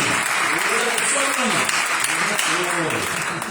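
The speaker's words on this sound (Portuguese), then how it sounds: "Uma salva de palmas para o Bruno aí." A round of applause for a participant during a Sunday evening church blessing service, crowd clapping running throughout beneath a voice speaking over it.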